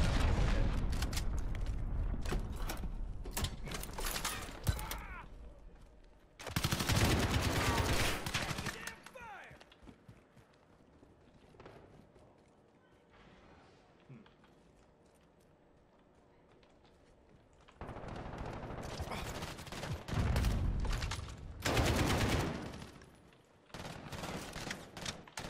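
Bursts of automatic gunfire and explosions in the Modern Warfare beta first-person shooter, with loud dense volleys at the start, in the middle and toward the end, separated by quieter stretches.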